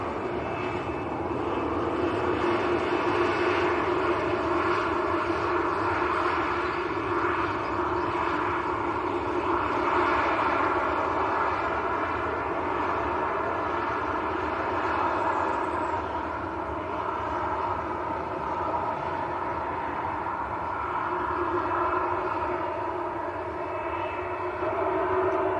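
A Maltese-registered Ryanair airliner at Manchester Airport makes a sustained, loud engine roar with a steady whine, holding evenly for about twenty-five seconds with no talk over it.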